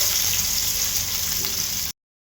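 Paste frying in hot oil in a frying pan gives a dense, steady sizzling hiss, loud and close, which stops abruptly after about two seconds.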